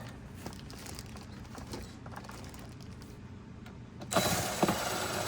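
Fasteners on the air filter housing of a 2023-2026 Honda CR-V Hybrid being tightened, close small mechanical clicking and ratcheting with a louder plastic clunk near the end, no voices.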